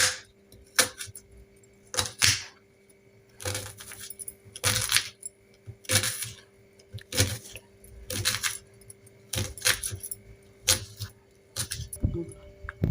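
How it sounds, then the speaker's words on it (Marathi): Onion being chopped finely with a knife on a board, a string of crisp, close cuts in quick bursts with short pauses between, set against a faint steady hum. "कांदा आता बारीक चिरून घेऊया आपण"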